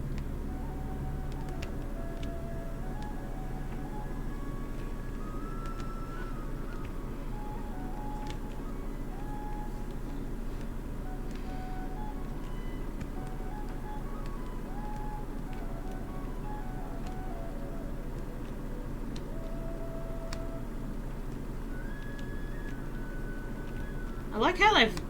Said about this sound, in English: I like how they've used the flute like what you'd hear in the movie